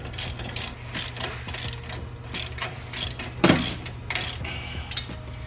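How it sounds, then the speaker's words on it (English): Rapid clicking of a hand ratchet tightening brake caliper bolts on a Nissan 370Z, repeated close bursts of pawl ticks with a brief metallic knock midway. "Tighten the bolts back. And we're gonna tighten it."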